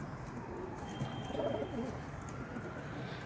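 Mardin breed pigeons in a breeding loft holding females, giving soft low coos over a steady murmuring background, close and continuous.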